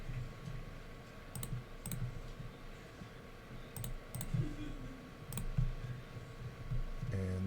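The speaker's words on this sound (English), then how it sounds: "Sorry, I'm typing in." Computer keyboard typing during an online poker session: scattered light clicks and taps in irregular bursts over a steady low background hum, fairly faint, with no talk.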